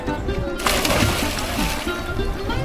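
A child jumps into river water at Pandharpur with a sudden close splash, followed by sloshing and churning water that continues afterward, with faint voices in the background.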